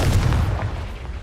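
A Confringo explosion spell cast in the Hogwarts wizarding video game lands as a deep, rumbling boom that fades over about a second, heavy and close with no voices.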